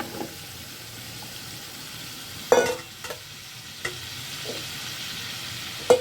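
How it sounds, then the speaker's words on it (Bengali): Vegetable stalks sautéing in a new pot, a low steady sizzle broken by a few sharp clanks of stirring, close by and without speech. "এখন ডাটাটা দিয়ে করবো, কষাবো।"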